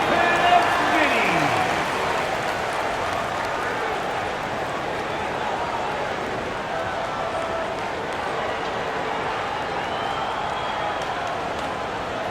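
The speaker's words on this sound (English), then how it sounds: "Fans, please give a big round of applause." Arena crowd applause in the NBA 2K26 basketball video game for the Cleveland Cavaliers, a steady wash of clapping and crowd noise that swells at first, then holds at a moderate, even level.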